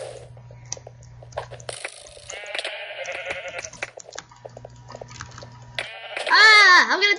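Sheep in Minecraft, on the Mineplex server, bleat in loud wavering cries near the end, after a stretch of clicky, ratcheting game sounds and scattered effects.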